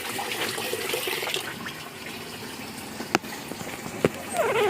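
Tap water runs in a steady broad wash with a couple of sharp clunks partway through and a slightly louder gush at the end, with no talking.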